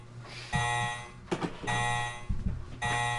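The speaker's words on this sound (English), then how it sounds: "Enjoy the beeping sound as I go make some rounds real quick." Electronic beeping in Resident Evil: Code Veronica X plays in steady tones that cut out twice for brief clattering sounds before resuming.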